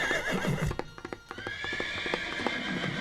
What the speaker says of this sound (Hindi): घोड़ा आवाज भी दे रहा है।